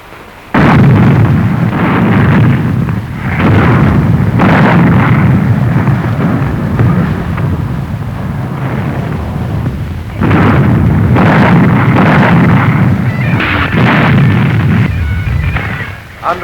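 Naval bombardment during a WWII amphibious landing: loud, rolling artillery explosions and bursts crash almost continuously, with a brief lull near the start and a short drop around the middle before the pounding resumes.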